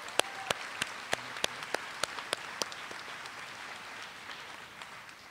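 Applause at a 2011 journalism graduation ceremony: a few sharp, close claps ring out in a quick run over a soft bed of audience clapping, then thin out and fade toward quiet.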